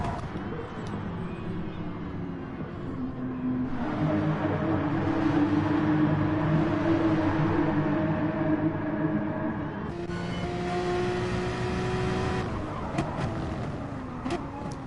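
Porsche Cup race cars in Gran Turismo Sport lapping Barcelona, a sustained, loud engine drone with shifting pitch as cars pass, continuous throughout with a gearshift-like change midway.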